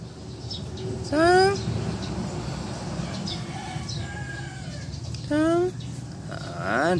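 A stray cat meows three times, drawn-out rising and falling cries over a steady rumbling background, with faint talking in between.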